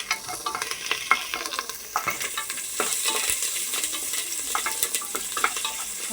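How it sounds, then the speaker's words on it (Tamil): Green chillies and curry leaves sauté in a pan after mustard seeds, giving a steady sizzling fry with repeated scraping stirs throughout, close and fairly loud, with no talking. "பச்சை மிளகாய் கருவேப்பிலை போட்டு நன்கு வதக்கவும்"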